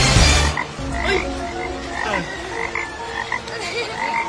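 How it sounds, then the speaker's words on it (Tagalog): Repeated frog croaks, close and loud, in a steady irregular chorus with no talking. "Palaka."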